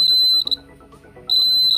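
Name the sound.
homemade distance alarm sounding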